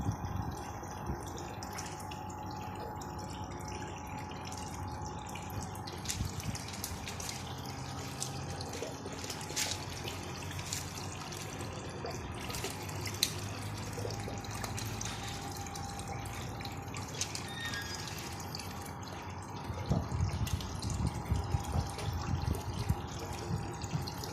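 Water trickles and drips steadily through the pipes of a homemade wall-mounted hydroponic vegetable growing system, a continuous close gurgling flow with scattered drops.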